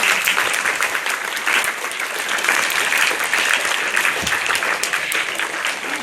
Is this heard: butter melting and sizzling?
no